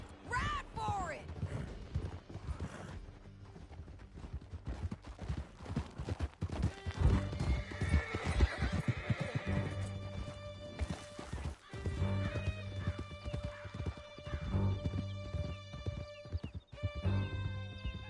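Horses galloping and neighing in a PS4 video game, rapid hoofbeats under a swelling musical score, with a whinny near the start and game voices talking over parts of it.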